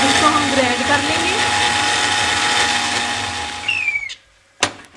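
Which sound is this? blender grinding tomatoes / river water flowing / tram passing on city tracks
blender grinding tomatoes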